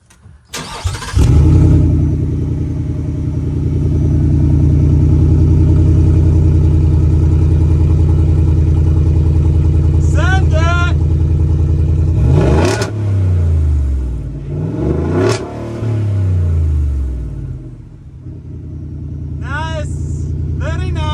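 A 2021-2023 Ford F150 with an MBRP straight pipe exhaust fires up warm, settles into a deep loud idle, then is revved in several sharp swells; voices talk briefly over the engine.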